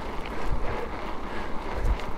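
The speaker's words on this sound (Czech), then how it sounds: "tak fouká od severu takovej myšmáš severozápad" Wind from the north-northwest buffets a cyclist on a road ride, a steady rushing roar of wind noise with low gusty rumbles and no speech.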